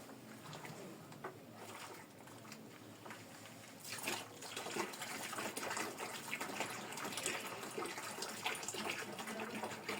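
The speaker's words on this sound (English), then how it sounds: "then I will be adding cold water slowly" Cold water is poured slowly into a container to dissolve fabric softener, a steady gush and splash that grows fuller and louder midway.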